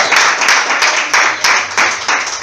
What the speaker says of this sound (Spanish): ¿Le puede dar un aplauso al Señor por eso?